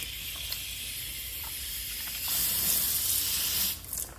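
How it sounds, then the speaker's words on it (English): A steady hiss of water spraying from a nozzle to rinse resin away while replacing resin in a water deionizer, growing louder and stronger partway through before cutting back. "We're gonna spray some of the resin out of the way here."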